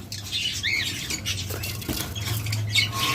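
Green opaline pet birds kept as a pair for sale give a few quick, fairly faint squawks and chirps over a low steady background hum, with no talking.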